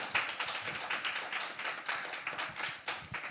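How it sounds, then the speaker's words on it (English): Audience applause for a panel at an art conference, a dense patter of many hands clapping, moderately close and steady, swelling slightly in bursts without fading. "Give them a round of applause,"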